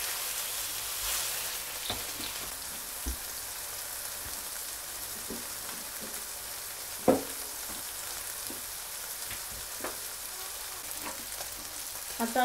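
Tilapia fish frying in oil with a green masala coating, giving a steady, close crackling sizzle throughout, broken by occasional light taps and one sharper knock of a utensil against the pan.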